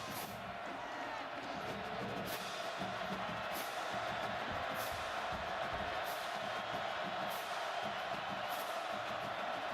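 Stadium crowd at a 2015 TCU vs Oklahoma college football game, a broad steady roar of cheering spectators rising for the Oklahoma defense, continuous and distant-sounding throughout.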